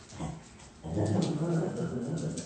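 A dog on a residential street yips and whimpers briefly. Its sounds are fairly close, with some muffled background noise around them.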